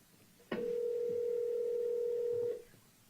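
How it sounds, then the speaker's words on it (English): A telephone tone on a recorded 911 emergency call sounds as a single steady electronic tone lasting about two seconds, clear and alone, then cutting off. "We will now play an audio clip of that second 911 call."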